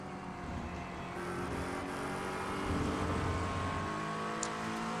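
A McLaren race car at Road America, its engine droning steadily at a distance with a gradual rise in pitch as it accelerates, heard alone with no voices.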